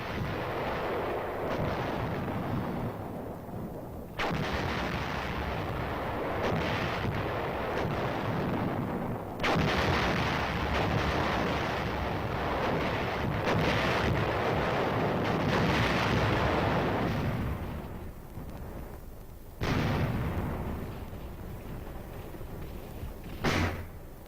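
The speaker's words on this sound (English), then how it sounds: "3rd Division artillery moved in to plug the gaps with firepower" Artillery of the US 3rd Division fires in Korean War footage: a continuous heavy roar of gunfire with repeated booming blasts. The barrage sounds loud and densely layered throughout, with no voices.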